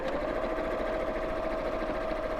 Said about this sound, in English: I'm just sewing over the top here